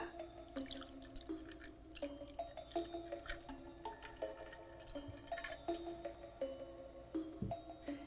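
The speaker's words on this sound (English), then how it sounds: "I'll do a little bit of ice, pour in my sangria." Bloody orange sangria is poured over ice in a glass, with a soft liquid trickle and small clinks and drips scattered throughout, quiet and close, with no voices.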